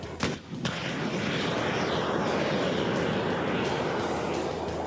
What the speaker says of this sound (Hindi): लाल बटन दबाया, मिसाइल ने स्ट्रीक की और टारगेट तबाह।